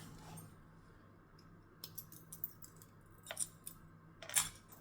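Scissors snip thread ends after back-stitching a fabric boxy pouch on a sewing machine, a few faint close clicks and snips in a quiet room over a low hum.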